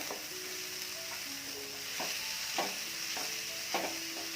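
Capsicum and mushroom mixture stirred in a pan for mushroom puttu, with a steady low sizzle and repeated scraping strokes of a spatula, close by and fairly quiet, no voices.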